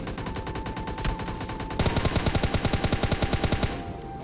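Gunfire in PUBG Mobile Lite: a few scattered shots, then a fast, steady string of evenly spaced automatic rounds lasting about two seconds, close and loud, with no talking.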